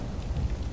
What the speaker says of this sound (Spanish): Va a empezar la lluvia.